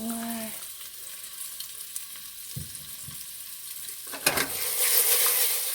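Beef pieces browning in oil in a pot for stew: a steady, moderate sizzle with a few knocks of a utensil partway through, the frying growing louder near the end.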